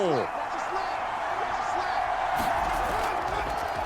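Stadium crowd noise from a Madden NFL game between the New Orleans Saints and Seattle Seahawks swells into a continuous cheering roar near the goal line, steady and loud, with scattered whoops rising above it.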